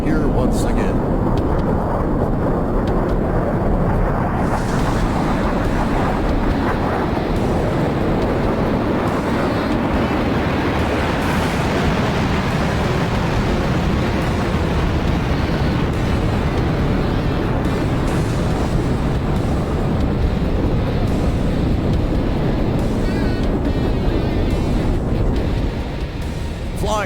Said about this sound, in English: get ready to hear the sound of the General Electric axial flow J79 engines as the legend is about to return to the skies here once again